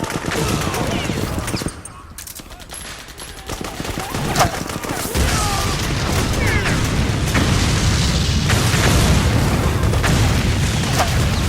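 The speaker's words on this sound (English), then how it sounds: "from this position, I can throw a grenade behind me" Explosions and bursts of gunfire sound in the Metal Gear Solid 4 video game as a grenade is thrown at PMC soldiers. A deep boom is followed by dense, continuous battle noise with a voice speaking over it.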